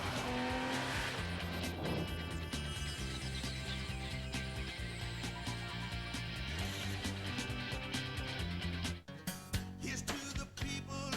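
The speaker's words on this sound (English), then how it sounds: "V6 Nissan Altima, North American Car of the Year." V6 Nissan Altima car in a TV advert, driving with loud engine roar and tire squeal over a dense musical bed, continuous for most of the clip before a brief break near the end.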